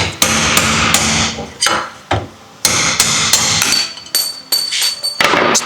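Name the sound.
hammering punch to remove small bearing race from boat trailer hub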